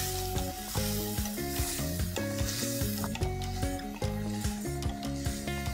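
Two finely chopped onions sauté in a pan with a continuous sizzle and scraping stirs, while background music plays over it.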